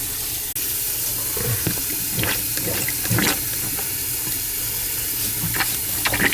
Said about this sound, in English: Should be able to just plunge them.